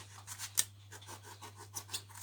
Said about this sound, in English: I'm going to trim up the edge a bit.